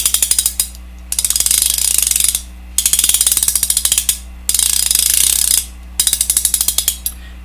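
Berkley 510 single-action, left-hand-retrieve fishing reel with its drag fully tightened, its click pawl ratcheting in fast, evenly spaced ticks through several bursts of cranking separated by short pauses, close and loud.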